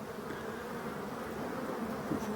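Honeybees foraging in mid-October make a steady, close, continuous buzzing hum with no voices.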